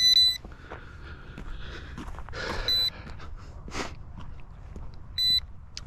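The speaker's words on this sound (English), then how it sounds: "Remote even beeps when the battery's low." Handheld remote for a Yuxiang F09-S Blackhawk Coast Guard UH-60 RC helicopter sounding its low-battery alarm: a short run of high electronic beeps at the start, again near the three-second mark and once more near the end, over quiet background hiss.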